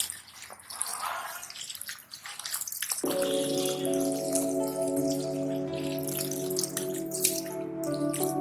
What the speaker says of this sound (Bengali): এখন আমি সাজনা পাতাগুলো ভালো করে ধুয়ে নিচ্ছি।